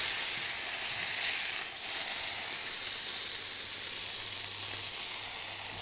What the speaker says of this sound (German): dann brate ich es auch ganz gerne so mal an der Seite an